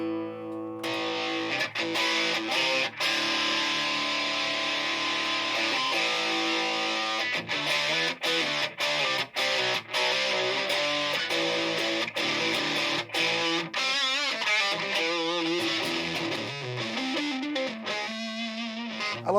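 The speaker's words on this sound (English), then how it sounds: "Let's just hit the Rat pedal and see what it sounds like." Electric guitar played through a Rat distortion pedal, a gritty sound between distortion and fuzz, with sustained chords and sharp picked attacks ringing loud and continuous, no voices.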